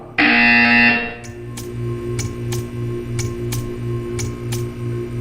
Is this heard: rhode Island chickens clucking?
no